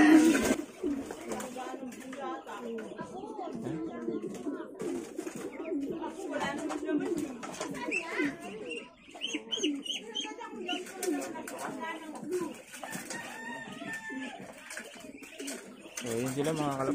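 Racing pigeons cooing during derby training, soft repeated coos and chirps close by, with people talking in Filipino over them.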